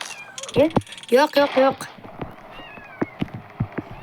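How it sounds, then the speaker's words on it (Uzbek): Kittens meow repeatedly in short, high-pitched cries close by, several overlapping calls early on and fainter mews later, with someone briefly talking among them. "Mushukchalar, jim turinglar."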